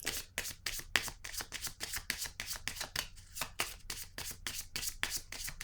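Tarot cards riffled and handled close up, with a fast run of crisp flicking and snapping strokes that keeps up a rapid, irregular rhythm, quiet and intimate with no voices.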